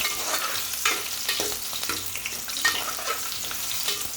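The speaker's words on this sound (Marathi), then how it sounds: "आता त्याच्यात कांदा टाकूया. कांदा परतून घेऊया मस्त." Onions frying in hot oil while being stirred in a pan for a prawn curry: continuous sizzle with repeated scraping strokes of the stirring, dense and close, no voices.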